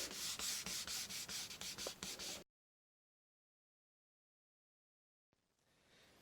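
Rubbing an inkjet print onto wood with a cigarette pack gives a quick series of rhythmic scrubbing strokes, close and fairly loud, then stops abruptly into silence.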